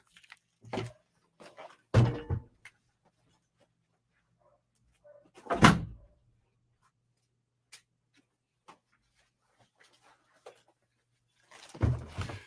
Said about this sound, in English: I just have to close back in the door there so the noise wouldn't come from the outside.